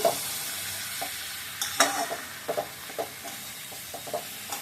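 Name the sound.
stirring chilli powder and sugar into a fish curry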